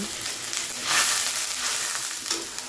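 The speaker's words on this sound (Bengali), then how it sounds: "এই তো অল্প পরিমাণে আদা রসুনটা দিয়ে কিছুক্ষণ ভেজে নিব" Ginger and garlic frying in a little oil for a hilsa fish curry give a steady, close sizzle that swells briefly near the middle, with no voices.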